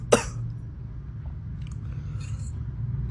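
A person gives a single sharp cough right at the start, close and distinct, followed by quiet room noise for the rest of the moment.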